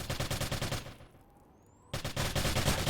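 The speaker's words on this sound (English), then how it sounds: "It's like trading fire back and forth in Garden here" Rapid automatic gunfire traded back and forth in a competitive video game match, dense loud bursts that break off for about a second of near silence before resuming just as hard.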